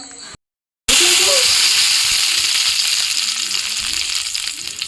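Three dried red chillies and curry leaves go into hot oil with popped mustard seeds, setting off a loud, close crackling sizzle after a brief silence. The hiss stays steady and bright, easing slightly as it settles.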